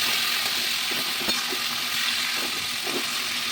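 Boiled snake gourd stir-fried with black cumin in a pan: a constant hissing sizzle with soft stirring scrapes, close and even, no voices.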